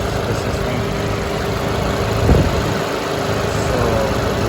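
A Toyota Celica GTS engine with a 2ZZ motor runs steadily at idle during a coolant flush, with a brief rise in revs partway through and a low rumble throughout, with no voices.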